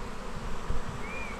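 A swarm of honey bees piles in through a hive entrance during an Australian swarm catch, giving a steady, close, dense buzzing hum throughout with no voices.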